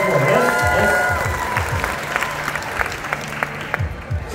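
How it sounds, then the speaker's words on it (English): An audience at a carnival comedy and magic show breaks into applause, a dense wash of clapping that stays fairly steady and full throughout. "let's give Nick a nice round of applause"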